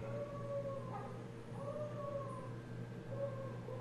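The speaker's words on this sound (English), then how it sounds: "My little puppies, they're yelling." Puppies howl faintly, their thin, wavering cries drifting in and out over a steady low hum indoors.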